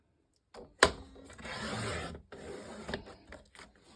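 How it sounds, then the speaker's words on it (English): A Westcott 12-inch titanium paper cutter slices a 1-inch strip from decorative cardstock: one sharp click, then a steady scraping rasp of the blade for about a second, followed by lighter clicks and rustling. "this is just my regular decorative cardstock, and I'm just going to cut, to be fair, I'll cut a 1 inch strip"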